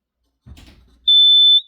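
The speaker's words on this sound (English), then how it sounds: "We're gonna test the smoke detector to the basement" A Vivint house alarm system's basement smoke detector is tested: a brief handling clatter, then a loud, piercing electronic tone sounds alone for about half a second.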